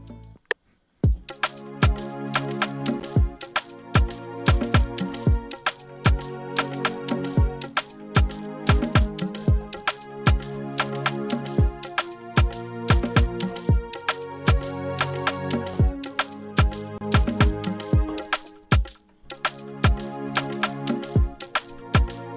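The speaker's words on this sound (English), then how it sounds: "let's add strings right now just to pick up the sound" An Afrobeat made in FL Studio 20, crisp, evenly spaced percussion hits layered with sustained synthesized string chords underneath.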